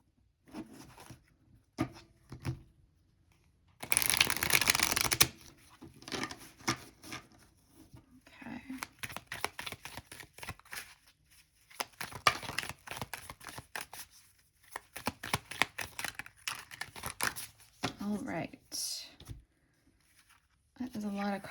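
Tarot cards shuffled and handled in bursts of riffling and shuffling, with a loud dense riffle early on, with rustling between the shuffles.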